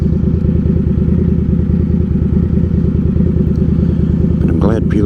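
An Indian Scout Bobber motorcycle engine runs after a week sitting out in the cold, a loud, close, steady pulsing idle with a brief rise in pitch near the end.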